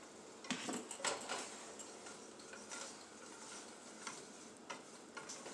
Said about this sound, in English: We want to drop in our flour and stir, stir, stir, stir, stir.